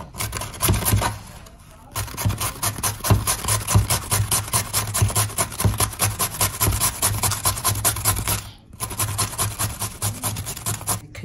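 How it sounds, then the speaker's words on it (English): Carrots are grated in fast, even rasping strokes, close and steady, with two brief pauses between runs of grating. "I'm gonna grate my carrots."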